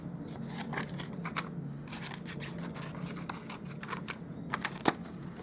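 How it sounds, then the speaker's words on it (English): Scissors cutting vellum paper at a desk while a Stampin' Up Mother's Day card is made: a series of soft, close, crisp snips at uneven intervals over a quiet background. "So what I need to do now is just cut some of that vellum."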